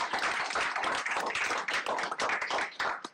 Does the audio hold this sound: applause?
yes